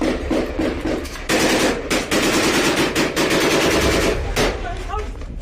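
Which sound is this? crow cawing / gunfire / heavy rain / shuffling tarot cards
gunfire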